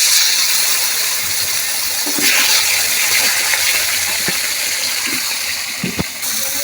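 Pangas fish going into hot oil in a pan, a steady broadband sizzle and spatter running throughout with a few sharper pops, close and fairly loud.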